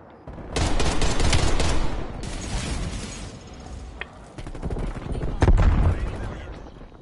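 Type 63 rifle firing in a Call of Duty match, loud rapid bursts of close gunfire with cracking reports and a heavy impact later on, mixed with game battle noise.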